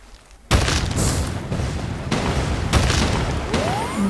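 Gunfire in the mobile battle game Free Fire: loud, dense bursts of shots and booms start abruptly after a brief quiet lead-in, with a couple of heavier blasts punctuating a continuous barrage, no speech.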